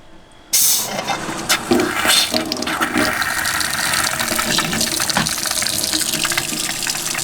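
A camper van sink tap, fed by a quiet pump, runs water into a bucket below. It starts abruptly with a steady splashing gush that continues throughout, close and fairly loud.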